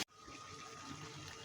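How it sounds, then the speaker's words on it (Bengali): Water poured into a pot of browned meat curry, a brief soft continuous gush and splash after a short pause at the start. "এখন আমি মাংসতে পরিমাণ মতো জল ঢেলে দিচ্ছি"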